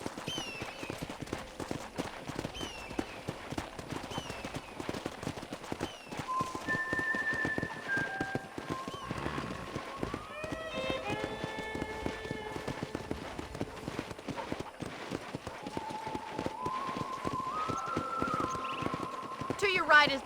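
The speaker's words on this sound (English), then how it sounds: "let's see if you can still ride a horse" Horse hooves clip-clopping in a steady trotting rhythm while riding through a ranch setting in Red Dead Redemption, fairly quiet and continuous, with a neigh and people talking over it.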